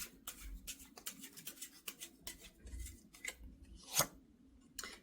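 Tarot cards are handled and drawn during a reading: a series of soft, scattered slaps and flicks with one sharper snap near the end, quiet and close.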